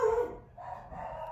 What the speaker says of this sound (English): that was some insane barking